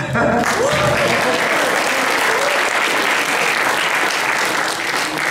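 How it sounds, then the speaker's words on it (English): A lecture audience gives a loud, sustained round of applause that holds evenly throughout, with a brief voice and a gliding tone heard at the start. "round of applause"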